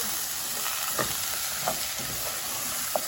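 Lentils sauté with onion and garlic in a pot over lowered heat, giving a steady close sizzle broken by a few soft stirring knocks.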